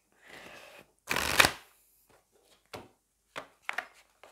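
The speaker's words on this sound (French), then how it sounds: "Je vais remélanger comme j'avais fait pourtant l'autre fois, c'est-à-dire un peu à la poker" Tarot cards shuffled poker-style in a riffle, heard as a short papery burst followed by a few lighter card taps and flicks, close and otherwise quiet.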